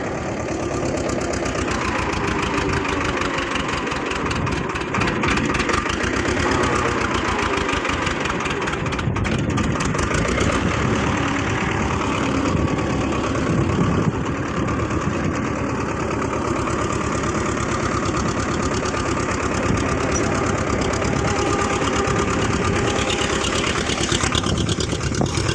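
A Swaraj 724 tractor moving in high-range first gear: a loud, steady diesel engine drone with a knocking rumble that runs unbroken throughout, close and without talk.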